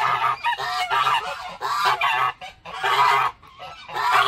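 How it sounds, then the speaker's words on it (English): Geese honk repeatedly at a jungle bed-and-breakfast in Guam, loud, close, nasal calls in quick overlapping bursts with short gaps between, and no talking. "Yeah, geese."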